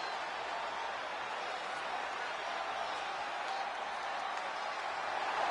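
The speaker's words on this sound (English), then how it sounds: "Rock and Cena face to face, feeding off the electricity of this crowd" Arena crowd from the wrestling video game WWE 2K25 roars in a steady, dense wash of cheering that swells slightly toward the end, with no clear voices standing out.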